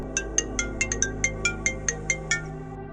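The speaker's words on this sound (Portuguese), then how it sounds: "Então, meu telefone tocou." A mobile phone ringing inside an old, dusty, closed-up house, with a regular ringtone pattern of about a dozen short, bright tones repeating evenly and close by.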